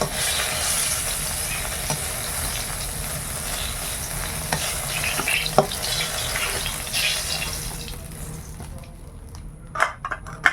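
Eggplant frying in oil in a home kitchen gives a steady, close sizzle for about eight seconds, then fades, leaving a few sharp clinks and taps near the end.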